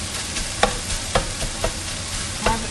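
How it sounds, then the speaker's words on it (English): Onions frying in a pan for sloppy joes give a steady broadband sizzle, with a few sharp stirring clicks and scrapes at irregular intervals and no voices. "Got some serious sizzling going on, folks."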